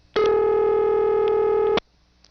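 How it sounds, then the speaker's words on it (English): A 1976 St. Thomas dial tone from the New Tripoli, Pennsylvania telephone office sounds as a single steady, buzzy tone that starts abruptly, holds for about a second and a half, then cuts off cleanly, near and loud. "Each of these offices has wonderful St. Thomas dial tone"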